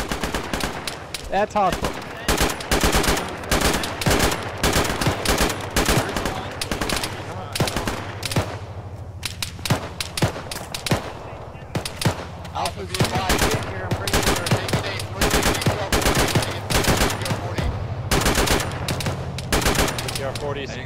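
Dense bursts of automatic gunfire and single shots in an Arma desert firefight, with ShackTac squad members shouting over the near, continuous rattle.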